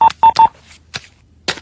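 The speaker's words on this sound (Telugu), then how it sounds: "వాళ్ళకి ఫోన్ చెయ్యి." Telephone keypad dialing tones: three quick beeps in a row, then two more spaced-out tones, loud and close, with no other sound.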